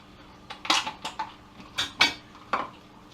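Scissors cut strips from a plastic cottage cheese dish, making about eight sharp, brittle snips and crackles in irregular bursts, close up and alone.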